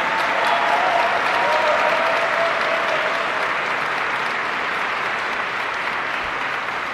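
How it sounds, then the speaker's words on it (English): A large audience applauds steadily and loudly through a full stretch at a speech event in Minot, North Dakota, as a dense, continuous wash of clapping that tapers slightly toward the end. "Give yourselves another round of applause"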